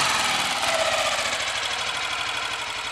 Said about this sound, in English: this engine now sounds like it would have done when it was brand new.